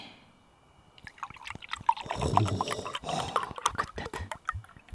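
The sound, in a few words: chocolate milk pouring from bottle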